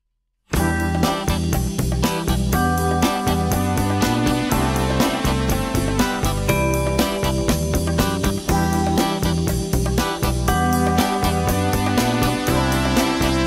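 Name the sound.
song Moonlight Feels Right by Starbuck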